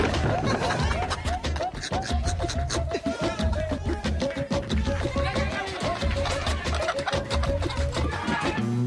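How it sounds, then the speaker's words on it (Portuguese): Chickens cluck and squawk, one just escaped, amid a dense, loud hubbub of shouting voices and commotion that continues throughout. "Ih, a galinha fugiu!"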